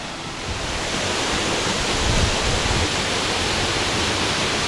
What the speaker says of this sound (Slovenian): Prispela sva do slapu Kaledonija.